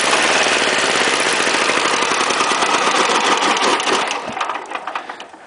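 A small engine converted from gasoline to diesel, fitted with an intake-air glow plug, runs with a loud, steady, knocking chug close by, then is shut off and sputters down over its last second or so.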